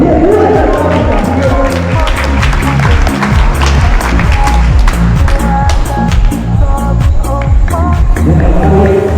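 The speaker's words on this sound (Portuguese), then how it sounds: "Aplausos." Audience applause and cheering at a dance rehearsal by the Tikuna group, steady rhythmic clapping from a crowd with loud voices and music throughout.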